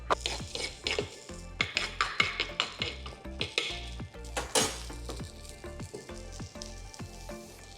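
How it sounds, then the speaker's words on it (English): Lightly sautéed onions and peppers hit a hot pan for a shawarma flatbread, giving a steady loud sizzle with repeated clinks and scrapes of a utensil against the pan, no talking. "So we've just got some onions and peppers that have been lightly sautéed. We're just going to add those in."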